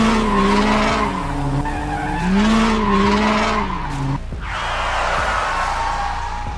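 Race cars in a film speed past with loud, sustained tire skidding and squealing over roaring engines, the screech rising and falling in long sweeps, then a sharp whoosh as one car rushes by close.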